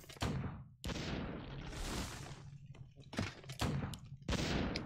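A mortar firing at a tree in a real-time strategy video game match, several heavy booming blasts and thuds in quick succession amid explosive rumbling.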